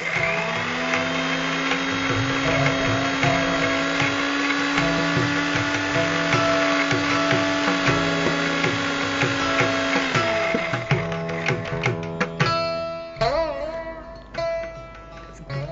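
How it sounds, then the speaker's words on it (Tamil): An electric mixer grinder whirs steadily while lightly grinding thalisapathiri herbs, a loud sustained motor whine that sputters and cuts off into rattling bursts near the end, with no voices. "இது போல மூலிகைகளை அரைக்கும் பொழுது முதல்ல லேசா ஒரு முறை அரைச்சிக்கணும்."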